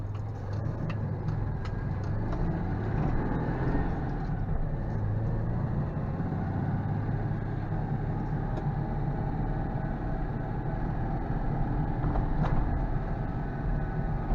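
A Citroën 2CV engine, its carburettor just refilled, runs steadily close by with a constant low rumble that holds without a break.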